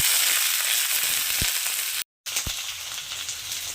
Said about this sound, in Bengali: জাস্ট দু মিনিট একটু ভেজে নেবো পেঁয়াজটাকে